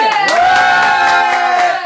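A crowd at a political meeting cheers loudly, with one strong sustained shout carrying over the din for nearly two seconds amid a scattering of claps.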